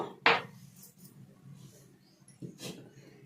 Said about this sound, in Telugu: ఇప్పుడు ఒక ఇనుము బాండలు తీసుకున్నానమ్మా